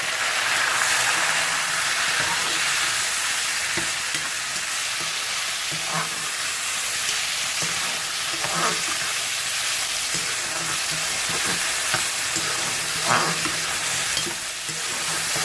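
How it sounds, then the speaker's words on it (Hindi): Tomatoes frying with golden onions for Peshawari charsi chicken karahi, a dense continuous sizzle close by with faint scraping stirs now and then, no voices. "ये देखें हल्के हल्के प्याज वो हो गए हैं गोल्डन। अब हम इसमें ये टमाटर डाल देंगे।"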